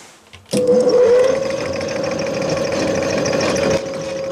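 A metal lathe turns an out-of-round pipe for a tubular die stock, the power feed running right to left to take half a millimetre off the diameter. A steady, loud mechanical whine with a rising start holds for about three seconds, then cuts off.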